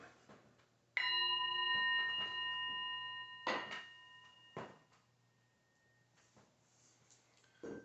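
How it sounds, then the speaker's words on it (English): A single meditation bell strikes clearly and rings out with a long, sustained shimmering tone that slowly fades, followed by a few soft knocks in a quiet room. "I'm going to ring the bell. Listen carefully."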